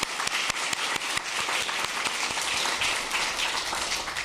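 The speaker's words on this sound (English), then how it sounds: "we should applaud that" Sustained applause from an audience at a HUD press conference on housing, steady dense clapping filling the room at moderate level with no talking over it.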